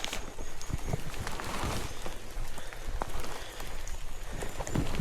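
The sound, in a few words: rain falling during mountain hike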